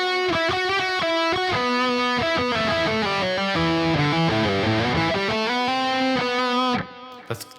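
Over a soft break in a song, an electric guitar solo carries a smooth, sustained melodic line with gliding bends, loud and clear, ending abruptly.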